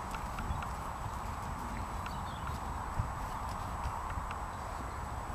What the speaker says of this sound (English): it's a herd of horses